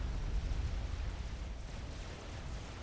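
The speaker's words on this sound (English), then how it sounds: "Massive explosion there" A massive explosion in the real-time strategy game Supreme Commander: Forged Alliance, a deep, dense rumble that roars loudly at the start and slowly eases off while staying heavy throughout.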